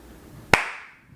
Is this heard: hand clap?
yes